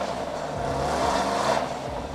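Chevrolet Corvette C8 Stingray engine revved briefly at moderate volume, a short swelling rise and fall in pitch over a low idle rumble, no talking.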